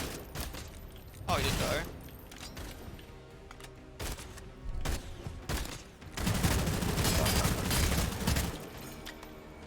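Tommy gun fire from Sunless Skies comes in loud rapid bursts, a short volley early on and a longer sustained stream near the end, with a voice talking briefly between shots.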